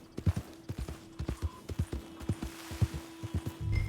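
Horse hooves clip-clopping in Red Dead Redemption 2, a steady, moderately close gait of irregular thuds over several seconds with faint background ambience.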